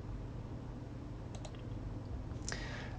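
A couple of quick mouse clicks during setup of a QNAP TV872 XT storage unit, close and crisp over a steady low hum, with a faint extra click near the end.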